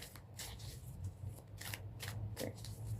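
A deck of tarot cards is shuffled by hand in quick, papery riffles and soft flicks, repeated in bursts at close range with no talking.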